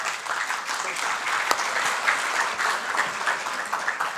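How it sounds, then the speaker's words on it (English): Audience applause at a European regional forum opening session in Dubrovnik, a dense, even round of clapping from a sizable crowd filling the whole stretch. "Finally, an applause"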